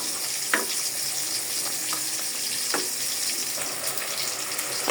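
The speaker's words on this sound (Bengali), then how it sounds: "আর দিয়ে দিচ্ছি 1 পিস রুই মাছ।" A piece of rohu fish fries in a pan with tomatoes, giving a steady close sizzle with a few sharper crackles and the scrape of stirring, and no talking.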